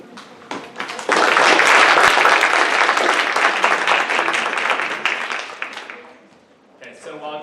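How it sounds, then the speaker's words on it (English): Sustained applause from an auditorium audience after a presentation in a formal debate on a two-state solution to the Israeli-Palestinian conflict, loud and dense for several seconds, then fading out before a voice speaks. "thank you for already giving Professor Brann a nice round of applause"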